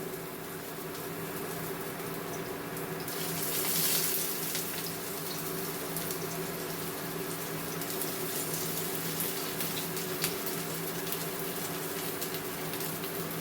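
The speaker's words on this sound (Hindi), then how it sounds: "अब इस तरह से तेल में मैं डाल रही हूँ।" Arbi leaf rolls (patrode) frying in about two spoons of hot oil make a steady, close sizzling hiss that holds evenly throughout, with no talk.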